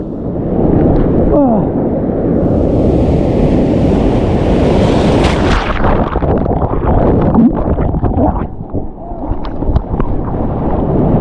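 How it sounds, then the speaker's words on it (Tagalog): Large ocean waves crashing and surging near a boat on the open sea while fishing for giant trevally, a loud sustained roar with wind buffeting the microphone and voices over it. "Grabe yung nasa harap natin na alon."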